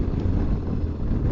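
Strong side wind buffeting a motorcycle rider on an exposed road on the Scottish islands, a steady loud rumbling roar of wind noise with no break.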